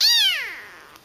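A tiny kitten about nine ounces gives one clear, high meow that slides downward and fades within a second, close and loud with nothing else around it.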